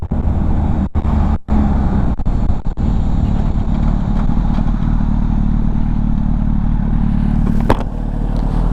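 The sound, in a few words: Honda CBR1000RR motorcycle accelerating 0-60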